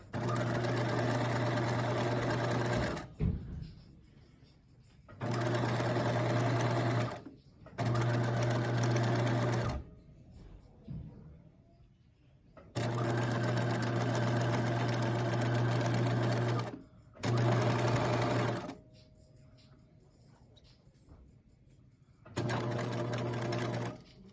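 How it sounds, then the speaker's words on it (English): A sewing machine runs in several loud bursts stitching a seam a quarter inch from the previous line on a romper, pausing between runs while a person talks in the gaps. "I'm going to stitch again 1/4 inch from that seam"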